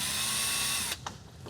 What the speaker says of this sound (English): Screwing it down.